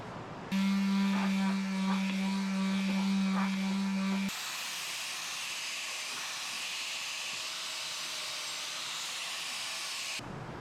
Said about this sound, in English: I can go ahead and start hitting that with the sander.